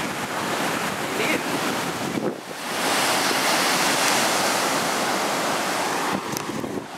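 Ocean waves break steadily on a beach in a continuous loud wash of surf, with wind buffeting the microphone throughout and a brief dip before the roar swells again.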